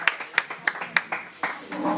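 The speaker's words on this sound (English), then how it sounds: "Let's have another applause for the Graham's erudite, scholarly," A few scattered hand claps ring out at the close of a devotional presentation at a Vrindavan public program, sparse and uneven at first, then thickening slightly as other sounds and voices build underneath.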